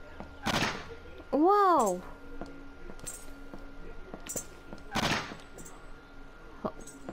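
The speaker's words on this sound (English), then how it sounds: "Okay, people are shooting people." Gunfire from the video game Jazzpunk: a few sharp, loud shot bursts spaced apart over a game backdrop, with a woman's brief exclamation and warbling game sounds between them.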